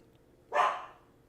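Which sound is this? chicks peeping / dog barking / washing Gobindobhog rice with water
dog barking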